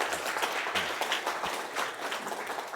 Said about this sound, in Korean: 저한테도 박수 한번 쳐주세요